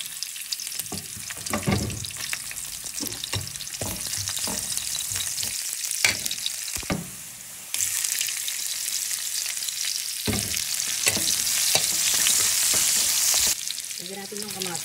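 Milkfish frying in hot oil in a pan gives a steady loud sizzle and crackle, with occasional stirring scrapes and a brief dip partway through; no talking.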